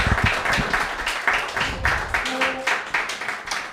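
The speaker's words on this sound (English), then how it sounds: "Have another big round of applause for Vikas." Audience at an open mic reading clapping for a departing reader, a loose, moderately loud patter of hand claps with a brief voice cutting in partway.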